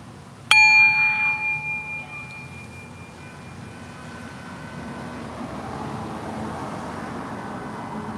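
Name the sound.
bell ringing during meditation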